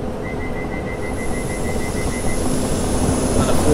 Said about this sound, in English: we are driving a 4-car train